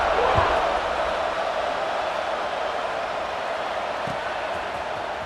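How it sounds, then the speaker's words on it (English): Stadium crowd in EA Sports College Football 26 after a score, a steady broadband roar and buzz holding at an even level for several seconds, with no commentary over it. "this crowd is buzzing after that last score"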